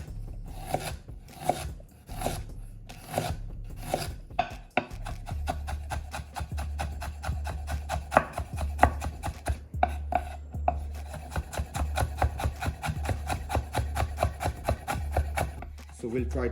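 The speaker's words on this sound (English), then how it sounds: "We'll chop my ginger." A knife chops ginger on a board, first in a few separate slow strokes, then in rapid, steady rhythmic chopping that continues to the end, close and crisp, with no voices.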